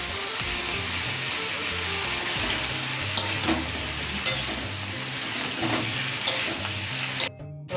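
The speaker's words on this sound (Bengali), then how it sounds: "এবার সবজিটাকে ভালো করে ভেজে নেবো" Mixed vegetables frying in hot oil with salt for veg dal, a dense continuous sizzle with intermittent stirring scrapes and light clicks, close and fairly loud, cutting off abruptly near the end.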